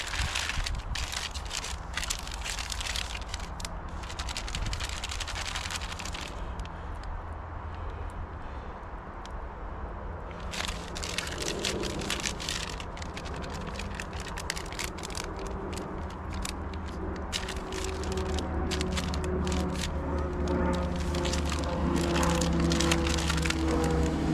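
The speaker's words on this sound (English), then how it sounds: "you get a very rapid expansion of steam as the water reacts with the chemicals" Crackling, fizzing hiss of a self-heating food pack as water reacts with its chemicals, releasing steam, with bursts of sputtering and a low steady hum building toward the end.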